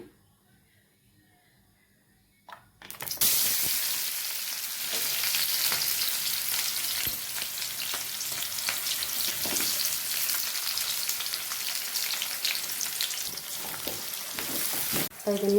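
After a quiet start, oil erupts into a loud, sustained sizzle as washed, squeezed mushrooms hit the hot pan, with continuous crackling close by.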